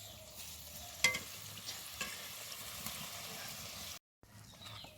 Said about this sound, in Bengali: দেখো ফুচকাগুলো কিন্তু খুব সুন্দরভাবে ভাজা হয়ে গেছে